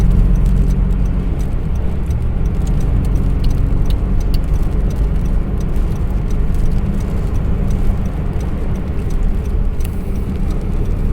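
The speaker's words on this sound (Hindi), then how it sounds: "तो हम कोशिश कर रहे हैं कि गाड़ी बहुत स्लो ड्राइव करें और सेफ ड्राइव करें।" Interior rumble of a car driving slowly and steadily along the highway from Etawah to Agra, a constant low road and engine drone with no voices.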